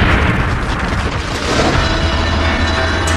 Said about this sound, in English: the grenade detonates.